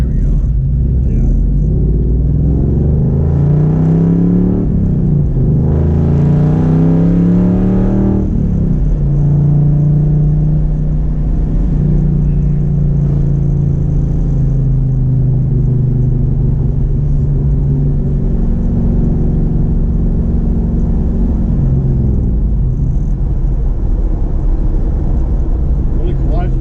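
Rebuilt 1968 fastback heard from inside while driving, a loud steady engine rumble that rises with acceleration and settles back, with voices talking over it.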